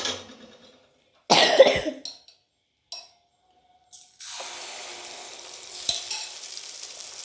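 Kantharappam batter drops into hot oil with a loud hiss that then settles into a steady, lighter frying sizzle, broken by a few short clatters and gaps of near silence.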